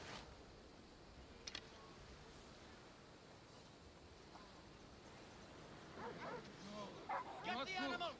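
A dog at a bandit camp in a video game barks in a few quick yips over distant background ambience, the barks growing louder near the end.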